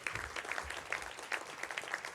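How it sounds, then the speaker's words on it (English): Brief applause at the Kavli Prize ceremony, a moderately quiet patter of many hands clapping with a few sharper claps standing out. "deserve a round of applause"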